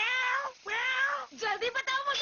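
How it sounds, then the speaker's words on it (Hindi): A black cat in a Hindi-dubbed Doraemon cartoon gives three close, drawn-out meows in quick succession, the last one broken into a choppy, wavering call. "हे, काली बिल्ली!"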